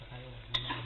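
Pork blood stew (dinuguan) stirred in a pot, a soft continuous scrape and simmer with one brief sharp clink of the spoon against the pot midway, close and steady.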